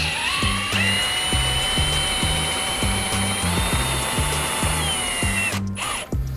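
A power drill with a jack attachment runs in reverse to drive a jack, giving a loud, steady motor whine over a rapid rhythmic ratcheting clatter that stops abruptly near the end.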